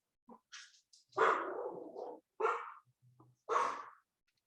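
A dog barks and yips in the background of a home math lesson, in four or five short bursts that are fairly faint and irregularly spaced, with quiet breathy sounds between them.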